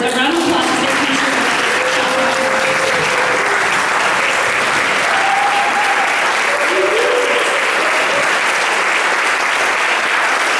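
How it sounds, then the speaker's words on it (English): Audience applause for Micki and Michael Alberts at a leadership academy gathering, a dense, loud, sustained wash of clapping with a few voices calling out over it. "give Micki and Michael Alberts a round of applause for their feature"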